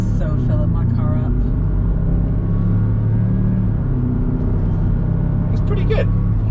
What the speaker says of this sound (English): Let's do a standing start here. Launch control.